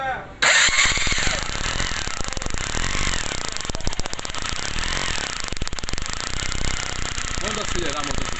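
A 2002 Honda CG Titan 125 KS motorcycle engine is cranked by its electric starter and catches, then runs on at a steady, loud, close idle with a continuous rough mechanical drone.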